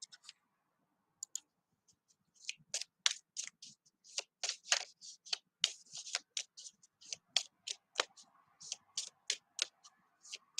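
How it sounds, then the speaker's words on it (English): Soft, rapid papery clicks and flutters come in irregular bursts, close and quiet, as tarot cards are shuffled by hand. "I'm just shuffling the cards"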